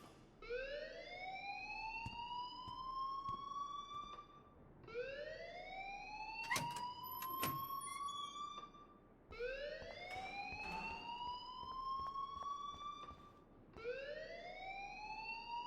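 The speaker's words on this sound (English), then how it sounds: "please turn off that alarm since that's your job" An alarm in the video game Life Is Strange sounds as a rising, electronic siren-like wail that repeats four times at steady intervals. It is moderately faint, with a few sharp clicks in between.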